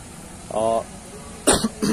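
A brief vocal sound is followed by a sharp, harsh cough, then another short throat-clearing burst, close to the listener.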